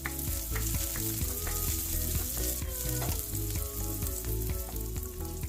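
Chopped green chillies sizzle steadily in hot oil in a pan for semolina upma, a loud, continuous fry with light stirring clatter throughout and no talking.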